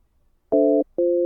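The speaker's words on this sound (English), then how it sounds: "Thanks, little Skype. You're going to give us a little dial tone." A Skype call gives a ringing tone: two short, identical electronic tone bursts, clean and loud, separated by a brief silence.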